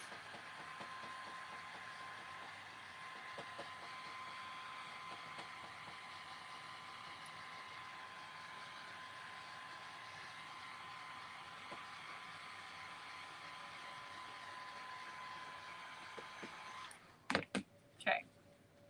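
Hair dryer drying paint on a rooster craft: a steady whirring blow held for about seventeen seconds, then switched off, followed by a few handling clicks.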